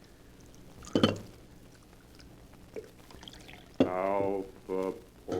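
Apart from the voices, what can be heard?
coffee being poured into a cup, radio drama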